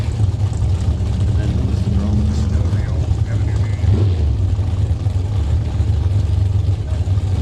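Drag racing cars, including a 1967 Chevelle, finish burnouts at a strip, a steady loud low engine roar with crowd-like background throughout and an announcer talking over it.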